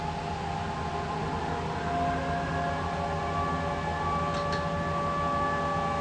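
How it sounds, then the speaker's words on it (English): A siren from the horror film V/H/S/2 plays in the background during a live glassblowing session, a steady wavering tone held under a constant broadband roar for the whole stretch. "This is from VHS 2, even the siren in the background."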